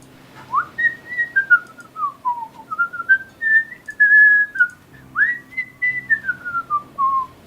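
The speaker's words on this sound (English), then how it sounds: "will take out a whistle from his backpack and start" A whistled tune carries melodic phrases that rise and fall in a clear, continuous line, fairly close and alone, pausing briefly near the middle before the melody resumes.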